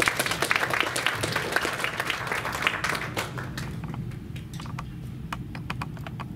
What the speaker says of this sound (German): Dann nochmal einen Applaus für die Dame.